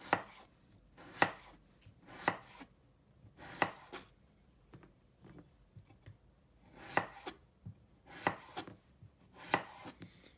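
Knife cutting an onion on a cutting board, a series of crisp, close chops in irregular bursts, separated by short quiet gaps.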